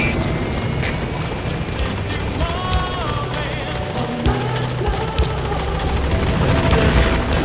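A helicopter in Metal Gear Solid V approaching a landing zone, loud continuous rotor thump and engine whine with game sound effects and tones layered over it, steady throughout.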